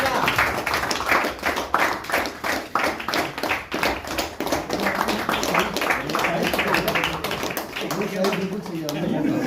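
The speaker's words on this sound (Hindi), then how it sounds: "जोरदार तालियां।" Clapping from an audience at a bank regional office gathering, rapid repeated hand claps in uneven bursts, with voices talking and calling out over them.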